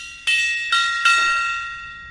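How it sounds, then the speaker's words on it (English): A gong is struck three times in quick succession, each stroke a bright, metallic, ringing tone that layers over the last and then slowly decays, with no talking. "I'll do a gong."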